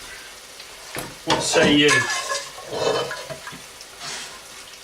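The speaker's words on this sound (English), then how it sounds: "Deglaze the pan." Pork adobo hits a loud burst of sizzling and bubbling as liquid is poured into the hot pan, with stirring and scraping that fades to a softer simmer. A voice speaks briefly.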